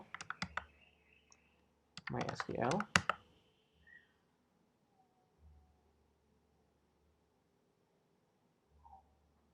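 Typing MySQL on a computer keyboard during a Linux web server setup: a few quick clicks at the start, then a dense burst of keystrokes, followed by quiet with a couple of faint, isolated taps.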